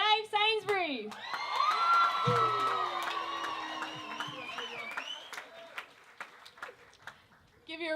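An audience at a university physiotherapy students' beauty pageant whoops, cheers and claps. The noise starts sharply, holds for several seconds and then thins into scattered claps and a few calls.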